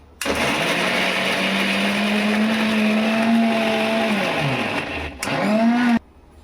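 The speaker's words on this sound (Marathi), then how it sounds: "हे मिक्सरच्या भांड्यात टाकलं मी बीट त्याला बारीक करून घ्यायचं" Kitchen mixer grinder whirring on chopped beetroot in its jar, a steady loud motor whine running several seconds, briefly cutting out and restarting before stopping.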